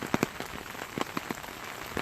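Light rain pattering onto a surface, faint and close, with scattered distinct drops over a soft steady hiss and no voices.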